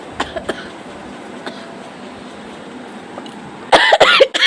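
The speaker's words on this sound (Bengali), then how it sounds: "প্রচণ্ড কাশি হচ্ছে" A person suffering from a severe, persistent cough, with a couple of short coughs early on and a louder cluster of harsh coughs near the end, close and alone over a quiet room background.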